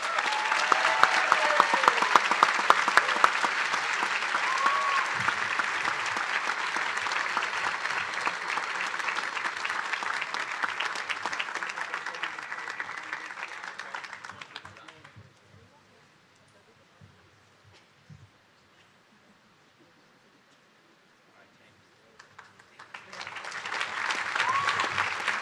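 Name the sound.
audience applause at commencement prize night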